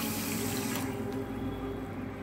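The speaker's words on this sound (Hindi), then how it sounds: "डेढ़ कटोरा पानी डालेंगे" Water runs steadily into a pan for making sugar syrup, a continuous close splashing rush with no talk.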